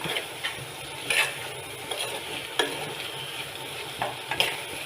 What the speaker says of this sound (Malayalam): എന്നിട്ടെല്ലാം കൂടി യോജിപ്പിക്കണം